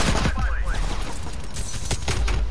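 Gunfire in Call of Duty Cold War, a few quick, loud bursts over busy game noise, close and sharp.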